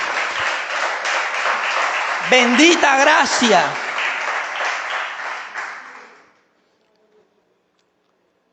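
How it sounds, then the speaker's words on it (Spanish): A church congregation applauds in a dense wash of clapping while a voice speaks briefly over it; the applause then tapers off and gives way to near silence for the last few seconds. "¿Cuánto le dan un aplauso al Señor?"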